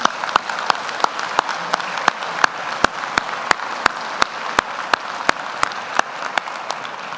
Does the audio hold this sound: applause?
yes